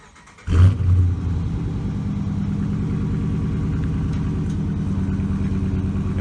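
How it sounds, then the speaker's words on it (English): A 2017 Dodge Charger RT with a 5.7 liter Hemi V8 starts with a sharp loud burst, then settles into a deep, steady, rumbling idle heard up close, with no talk. "Now, let's warm up the car."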